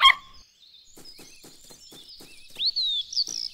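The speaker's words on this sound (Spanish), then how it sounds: "¡Escucha! ¡Es otra ave!" A run of soft, evenly spaced taps gives way to clear, high whistling bird calls rising and falling near the end.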